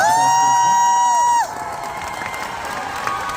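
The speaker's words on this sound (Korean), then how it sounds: "박수 한번 부탁드리겠습니다." A concert audience at a Seoul encore show claps and cheers after held musical tones cut off, the crowd noise carrying on steadily at moderate loudness with scattered shouts.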